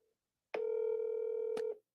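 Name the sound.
telephone dialing a number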